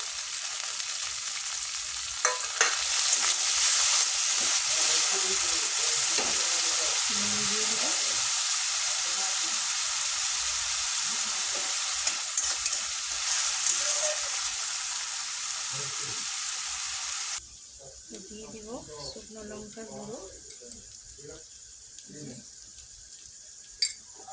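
Garlic sizzles in a hot pan with ginger and onion paste added, giving a loud, steady frying hiss for most of the stretch that then drops to a quieter sizzle, with a voice talking intermittently over it.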